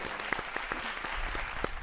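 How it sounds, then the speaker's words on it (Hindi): Audience applause welcoming the poet Kamal Agneya to a Hindi poetry recital stage, a steady crowd clapping texture with a few sharper individual claps standing out, moderately loud and continuous throughout. "हम तालियों से स्वागत करें।"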